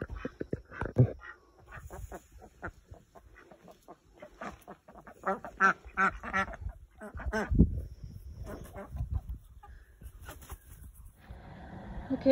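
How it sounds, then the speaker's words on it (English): Three ducks on an off-grid homestead in Canada, calling with raspy, squawking quacks in irregular bursts throughout, fairly close to the microphone. "Okay, so we got our 3 ducks."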